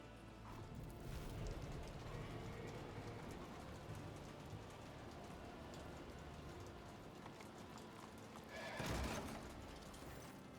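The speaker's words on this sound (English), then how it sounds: "Horse snorts and shows you its large teeth." A horse in the video game Warhammer 40k: Rogue Trader neighs and whinnies over a steady bed of rain and stable ambience, with a louder snorting burst near the end.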